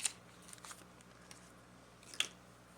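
Paper cut for a nature-themed collage: a couple of brief, crisp snips close up, separated by a quiet pause.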